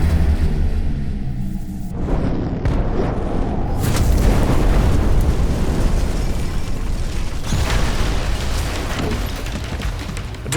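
A bomb planted on a wall detonates in a loud cinematic explosion, a sustained rumbling blast with debris and whooshing texture filling the whole stretch without pause.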